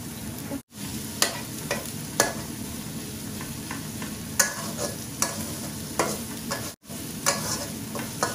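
An onion fries in oil with three small bay leaves for Sylheti village-style akhni: a dense, steady sizzle up close, with intermittent spatula ticks and two short dropouts.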